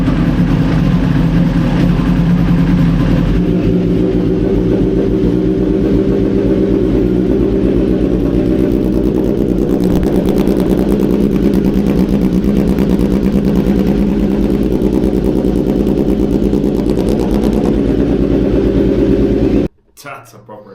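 A BMW M1000 motorcycle with an aftermarket exhaust idles loudly and steadily for about twenty seconds, a deep throbbing burble with slight rev variations, before cutting off near the end; voices can be heard under the engine.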